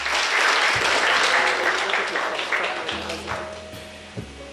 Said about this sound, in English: let's give them a round of applause once more